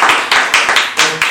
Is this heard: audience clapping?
yes